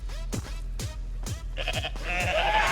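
A goat in the video game Goat Simulator 3 gives a run of sharp, rhythmic bleats, close and loud, with a brighter, buzzing electronic texture building beneath the last few calls.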